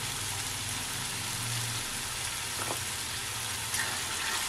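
Turmeric, coriander powder and salt fry in oil in a pan for an egg curry, giving a continuous soft sizzling crackle with a faint low hum underneath.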